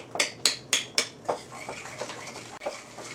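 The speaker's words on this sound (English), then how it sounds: "now it's time to mix. The old-fashioned way of doing this is with a spoon." A spoon mixing batter in a bowl: four sharp, evenly spaced clinks against the bowl, then quieter scraping and tapping strokes, close and alone.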